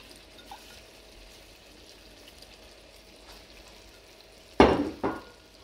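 Cauliflower and potato curry is mixed in a pan, with a short burst of loud scraping and sizzling stirring after several seconds of quiet background hiss.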